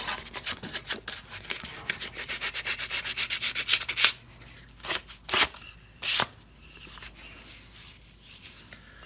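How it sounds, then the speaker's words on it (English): Hand sanding of a wooden instrument neck, a run of quick, regular rasping strokes up close, then slower, sparser rubs separated by quiet gaps. "If you see anything in here that you don't like the look of, sand that off."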